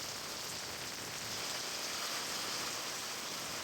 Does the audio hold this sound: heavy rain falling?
yes